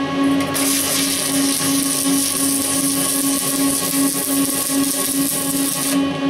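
An arc welder lays a skip weld on cast iron with a Vulcan 500 CI rod, giving a steady, loud, continuous crackling buzz up close that ends abruptly.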